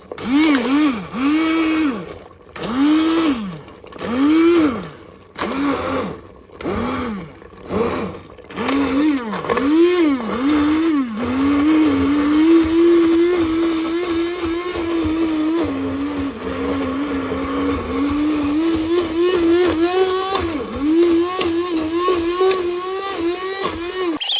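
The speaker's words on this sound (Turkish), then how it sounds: "rondo ile iyice bunu eziyoruz." A hand blender purees figs for jam, first in short whirring bursts that rise and fall, then in one long continuous loud drone with the motor pitch shifting as it works through the fruit.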